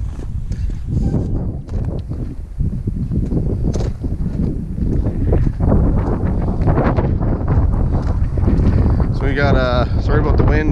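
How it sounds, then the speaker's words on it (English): Wind buffeting a microphone, producing a constant low rumble and roar throughout, with some knocking and mechanical noise mixed in. "Sorry about the wind. It's windy."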